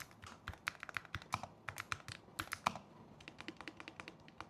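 Rapid typing on a Keychron K3 HE low-profile mechanical keyboard: a steady run of crisp, close key clicks and clacks at an uneven rhythm, heard alone without talk.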